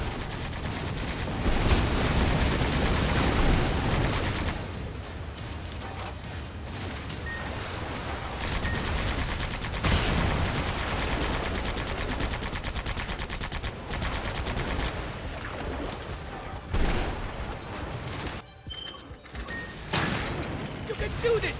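Rapid bursts of gunfire with heavy impacts and explosions in the action game Sand Land, loud and dense for most of the stretch, thinning toward the end, with character voices speaking over the shooting.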